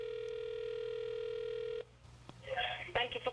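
A returned telephone call to a Tacoma, Washington number gives a steady ringing tone for almost two seconds, then cuts off into faint line noise and a voice answering.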